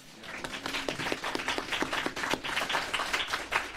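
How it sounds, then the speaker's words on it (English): A small audience at the grand opening of a medical respite center gives a round of applause, with scattered, distinct claps that form an uneven, moderately close rhythm. "Round of applause."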